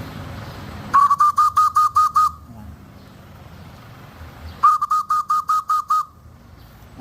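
Two bursts of rapid, sharp whistle notes from a homemade bird call whistle, about seven evenly spaced chirps each, loud and close over a low background rumble.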